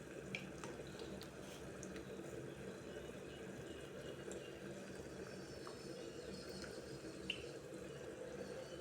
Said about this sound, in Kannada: ಈ ಥರ ನೀರಲ್ಲಿ ಚೆನ್ನಾಗಿ ಇದನ್ನು ಸ್ವಲ್ಪ ಹಿಂಗೆಲ್ಲ ತೊಳ್ಕೊಂಡು